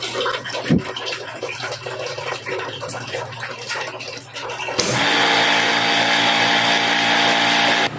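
Motor pump filling a water tank, starting with a low motor hum and trickling water, then a sudden jump into a loud, steady rush of water pouring in with a constant tonal pump whine beneath it.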